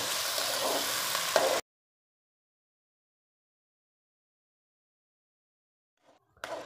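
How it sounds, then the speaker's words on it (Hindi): Chicken sizzles and fries in a pan for a Pakistani-style turnip and meat curry, a steady close crackle for about a second and a half before cutting to near silence, with faint stirring near the end. "यहाँ पे थोड़ी देर के लिए हमने इसको यहाँ पे भूनना है।"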